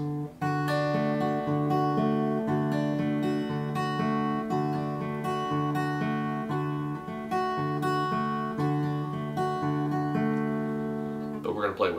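Acoustic guitar picks a steady arpeggiated pattern over a held chord, notes ringing clearly and evenly, alone with no voice, ending with a brief scrape.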